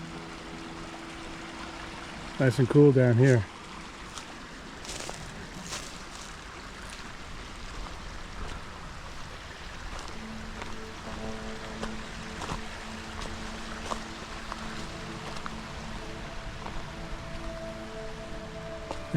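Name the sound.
two forest streams meeting, flowing water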